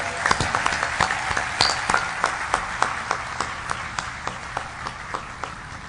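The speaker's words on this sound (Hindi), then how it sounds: "और एक बार तालियां इस शायर के लिए।" An audience applauds a poet at a recital, dense clapping from many people with distinct sharp claps standing out in a loose rhythm, thinning slightly toward the end.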